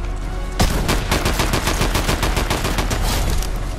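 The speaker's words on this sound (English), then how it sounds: "Yeah, that's a DMR that he has. That's why he's shooting so slow." Rapid, dense bursts of DMR rifle fire in a Fortnite match, loud and close, starting abruptly and continuing as a steady rattling volley to the end.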